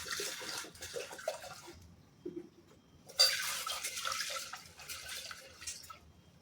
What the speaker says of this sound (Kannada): ಇದನ್ನು ನೀರಿನಲ್ಲಿ ತೊಳೆದು ಕುದಿಲಿಕ್ಕಿಡಬೇಕು.